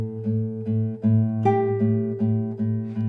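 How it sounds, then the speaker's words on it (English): Spanish guitar plays the slow, melodic contrasting section of Malagueña, clear plucked notes ringing one after another at an unhurried pace, close and alone with no voices. "we have a contrasting section, which is slower, kind of more melodic"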